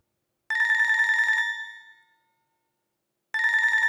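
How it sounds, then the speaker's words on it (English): A cell phone ringtone sounds loud and close, a bright electronic trilling burst that fades out, then starts again after a pause, with no voices. "The cell phone rings."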